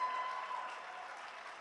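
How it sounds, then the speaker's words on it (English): Audience applause at a rally supporting higher education funding, a steady wash of clapping from a crowd that holds evenly for under two seconds, with no voices over it. "Give yourselves a round of applause."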